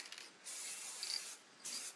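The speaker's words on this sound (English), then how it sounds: "I'm just getting overexcited with the spraying" Spray chalk paint hisses from a can onto a wicker table in short bursts, two clear sustained sprays with a brief gap between, close and fairly soft with no talk.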